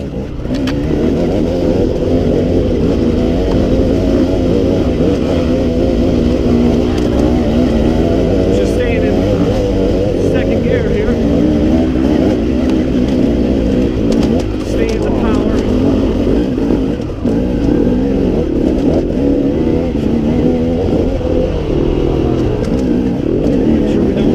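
A KTM 300 XC two-stroke dirt bike ridden hard along a trail, its engine a loud continuous buzzing drone held at high revs with small rises and dips throughout, close and dominant.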